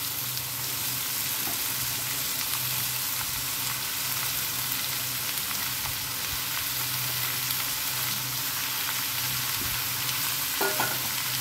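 Bottle gourd pieces being stirred in a pan with papad and soaked chickpeas, a steady soft scraping and low sizzle throughout, with a brief sharper clatter near the end, no voices.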